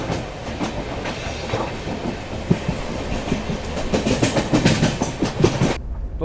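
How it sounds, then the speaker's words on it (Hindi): The Ashram Express, heard from on board in a first-class AC coach, runs through Garhi Harsaru station without stopping. Loud rhythmic wheel clatter and rumble carry on steadily, and the sound cuts off abruptly at the end. "यहाँ अपनी ट्रेन दोस्तों गढ़ी हरसरू रेलवे स्टेशन स्किप कर रही है"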